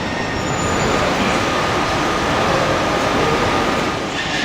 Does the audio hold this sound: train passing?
yes